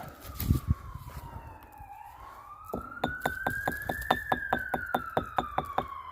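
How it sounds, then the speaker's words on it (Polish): A police car siren wails and then shifts into a rapid yelp, passing fairly near, with traffic rumble and a few knocks underneath. "Słyszycie? Jadą po mnie. Na sygnale."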